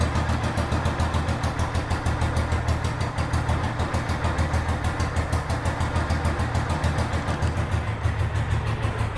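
A vintage motorcycle engine idles steadily and close by, with a rapid, even low-pitched thump that holds without a break and carries no voices.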